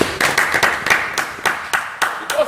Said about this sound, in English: Lift a clap offering to Jesus.